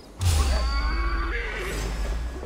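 A horse neighs loudly in Assassin's Creed Valhalla after being shot, a long, close, wavering whinny that starts abruptly and trails off over about two seconds, with no talk over it.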